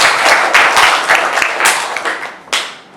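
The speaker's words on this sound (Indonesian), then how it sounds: "Kasih aplaus untuk teman kalian." A classroom of students claps for a classmate in a short burst of close, lively applause that fades and then picks up briefly again near the end.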